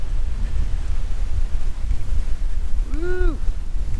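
Wind gusting across an exposed lakeside hiking trail, a continuous loud low roar buffeting the microphone, with a short vocal whoop near the end.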